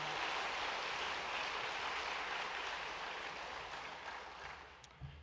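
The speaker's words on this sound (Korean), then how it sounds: "우리 오늘 오신 새 가족을 큰 박수로 환영하겠습니다" A church congregation claps during a Sunday worship service to welcome newcomers, a steady wash of applause heard faintly from across the room, gradually thinning out toward the end.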